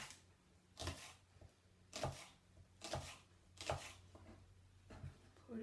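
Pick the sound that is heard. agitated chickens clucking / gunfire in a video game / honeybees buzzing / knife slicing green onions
knife slicing green onions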